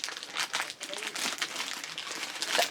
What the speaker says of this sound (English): my scissors are getting so dull that they're barely chewing through this bag